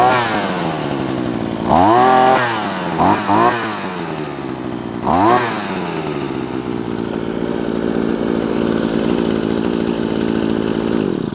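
A gas engine on a Wolf Creek 5-in-1 multitool is pull-started with the choke on. Two or three rising rev surges come first, then it settles into a steady, loud two-stroke idle that carries on to the end.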